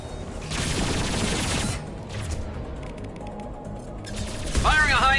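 Rapid bursts of gunfire ring out in the sci-fi shooter Mass Effect Legendary Edition, crackling fusillades for a couple of seconds, followed by quieter combat noise and a chirping electronic effect near the end.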